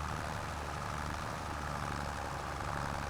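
Tractor engine idling in the farming video game Farming Simulator 25, a constant low rumbling drone running evenly throughout with no talk.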